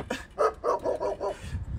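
Guard dog barking nearby in a quick burst of about five sharp barks, moderately loud, followed by a brief lower sound at the end.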